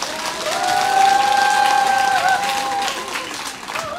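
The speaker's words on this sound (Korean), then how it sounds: "다시 한번 박수 부탁드립니다" An outdoor summer community performance audience in Geochang, Korea, applauds, a few seconds of dense clapping with a steady tone ringing over it, fading near the end.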